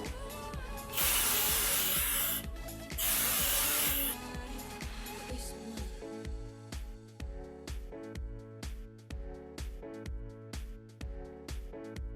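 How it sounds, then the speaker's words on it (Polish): Heat protectant spray is applied to hair before styling waves. Two loud, hissing spray bursts of about a second each come close together, then rhythmic background music continues alone. "bardzo ważne, żebyśmy nie zapomnieli o termoochronnym sprayu"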